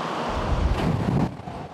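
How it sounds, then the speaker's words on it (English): Hurricane-force wind gusts batter the coast during a European storm, a loud, continuous roar of buffeting wind noise with no one speaking. "as hurricane-force gusts batter the coast"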